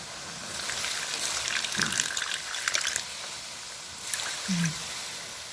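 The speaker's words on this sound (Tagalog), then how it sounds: "dagdagan nyo ng half cup na tubig." Water splashes and trickles in short pours into a cooking pan of bistek tilapia, half a cup added, with a faint hiss and a few clinks from nearby.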